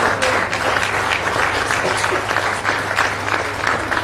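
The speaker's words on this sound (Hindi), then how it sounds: "और आपकी जोरदार तालियां हर बार हो" Loud, dense audience applause at a state ceremony where the Chief Minister hands cheques and gifts to athletes, steady clapping throughout with a low hum underneath.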